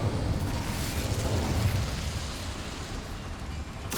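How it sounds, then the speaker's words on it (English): Incendio fire spell cast in the video game Hogwarts Legacy, a dense close roaring whoosh of fire that holds loud and steady for several seconds. "Incendio."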